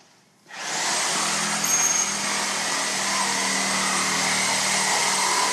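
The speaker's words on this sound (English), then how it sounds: "Little Sawzall action." A Sawzall reciprocating saw cuts into metal on a classic truck, starting abruptly and then running as a loud, steady, close buzzing drone with no pause or speech.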